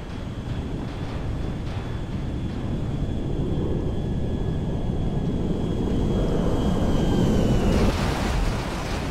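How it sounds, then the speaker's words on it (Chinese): A C-5M Galaxy military transport plane in GTA 5 goes down into the sea, heard as a loud, steady roaring rumble of engine and wind noise that swells toward the end, with a faint high whine over it. "运输机坠海，运输机坠海"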